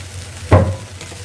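Mixed vegetables with tomato frying in a pan get one short stir: a single brief scrape and rustle over low background hum, with no talking.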